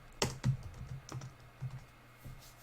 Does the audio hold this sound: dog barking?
no